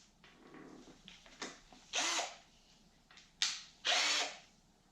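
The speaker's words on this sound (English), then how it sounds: "and I put it in my drill." Power drill whirring in short bursts while shaping homemade wooden fishing lures, two strong high-pitched runs plus a few brief spins between quieter handling noises, close up.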